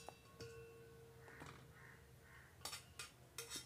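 Pots and utensils clink and scrape in a home kitchen as a cooked Marwari vegetable dish is moved from one pot into another vessel, with quiet stirring followed by a few louder metallic knocks near the end.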